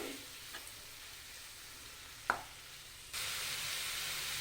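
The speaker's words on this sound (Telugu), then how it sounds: "ఈ ఆనియన్స్ బాగా ఫ్రై అవ్వాలి ఇవి బాగా ఫ్రై అయ్యి బ్రౌన్ కలర్లో రావాలి" Onions frying in a pan for kaju paneer masala hiss at a low, steady level, with a sharp clink near the middle before the sizzle suddenly grows louder and brighter toward the end.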